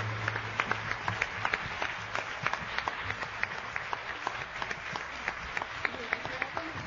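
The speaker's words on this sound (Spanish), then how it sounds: "Un aplauso al Señor por esta oración que nos ha regalado." A church congregation applauds during a Spanish-language liberation rosary service, sustained moderate clapping with sharp individual claps standing out over a low background hum, fairly close and steady throughout.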